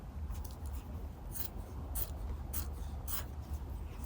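Scissors snipping through a fabric quilt strip, several quick crisp cuts spaced about half a second apart over a low steady rumble, close and fairly quiet.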